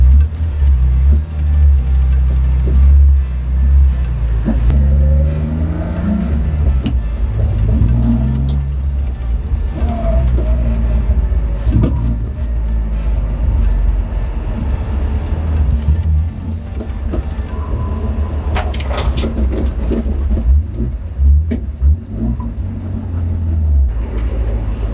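BMW E46 drift car driving slowly around a parking lot on a shakedown run, a steady low engine drone with light throttle swells and some rattling noise, close and continuous, with no one talking.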